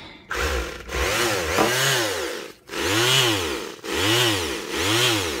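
A repaired power tool with a once-stuck trigger switch is plugged in and run: a loud, close motor whine that revs up and down repeatedly in several rising-and-falling bursts, with brief dips between them.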